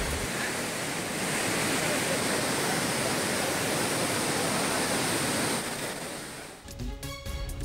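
Flooded Courtallam waterfalls in Tenkasi, swollen by heavy rain in the Western Ghats, give a loud, steady roar of rushing water that fills the scene before briefly breaking off at the end.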